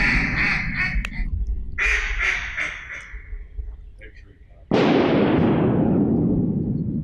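Duck hunting in flooded Arkansas timber: ducks quack in a busy stretch, then a single loud, close shotgun blast booms and rolls away in a long echoing tail.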